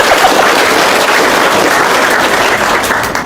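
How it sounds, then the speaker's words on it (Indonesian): A crowd at a gathering breaks into steady, loud applause, a dense continuous wash of many hands clapping close by that holds for several seconds before easing slightly at the end. "Itu yang Tepuk tangan dulu dong."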